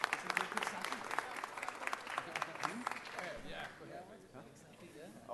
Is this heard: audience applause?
yes